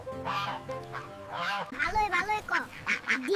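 Ducks quack in a rural farmyard, a run of close, loud calls mixed with a voice speaking over them.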